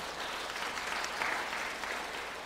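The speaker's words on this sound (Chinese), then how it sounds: "用拍掌谢谢他，好不好？" A church congregation at a Sunday worship service applauds to thank the pastor, with steady, moderately loud clapping from many hands filling the room throughout.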